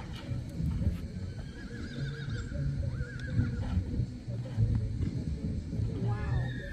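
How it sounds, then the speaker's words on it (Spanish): A horse from Morazán, El Salvador, fresh out of its stall at a small demonstration, neighs and whinnies several times over the clip-clop of hooves, up close, with voices and shouts around it. "Caballo traído de Morazán, El Salvador."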